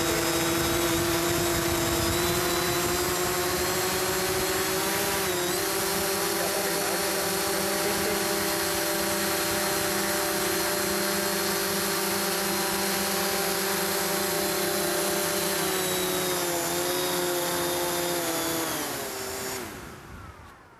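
A drone's propellers spin up and run at a steady, loud, close whine with a strong tonal hum that holds for about twenty seconds before fading as the rotors spin down.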